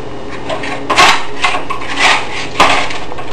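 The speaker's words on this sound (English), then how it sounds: "you scrape them off the pan right away" Baked meatballs being scraped off a greasy baking pan straight from the oven, a few short rough scrapes and rasps close up, with no talking.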